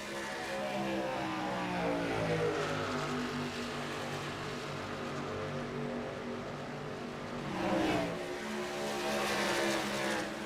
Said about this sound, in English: As they're going to drag race down the backstretch.